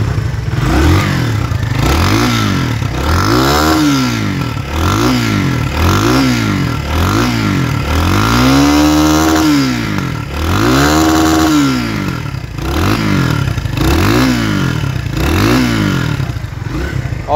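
A 2025 Kawasaki W175TR SE motorcycle engine with a racing exhaust revs repeatedly in a steady rhythm, each throttle blip rising and falling, loud and close with no talking.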